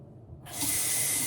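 Water running from a tap for a cold-water shave with a razor, starting abruptly as a steady bright hiss and splash close by, with no talk.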